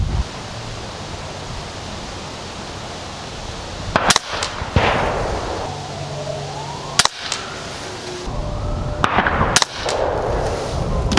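Three sharp shots from a .22 air rifle at 50 yards, spaced several seconds apart over steady outdoor wind noise, each a brief crisp crack.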